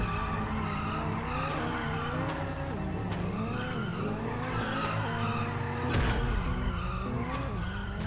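Cars drift with squealing, skidding tires in GTA V during a roleplay drift event, a continuous wavering screech of rubber and engine noise lasting throughout, with a louder burst near the end.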